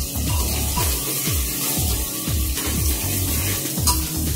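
Onions frying in hot oil in a pot over a full gas flame for stew: a steady, loud hissing sizzle with rhythmic stirring scrapes repeating underneath.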